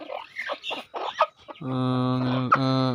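A dwarf crested hen makes a series of short, choppy clucks, then breaks into a long, drawn-out nasal cackle that swells and holds, close and clear.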